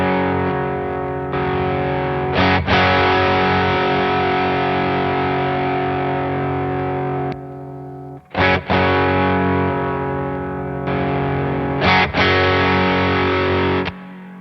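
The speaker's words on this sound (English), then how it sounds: "So let me demonstrate." Electric guitar played through a Tube Dreamer overdrive pedal with its boost engaged, a loud, thick distorted tone of sustained chords with brief breaks and restrikes, alone without talk.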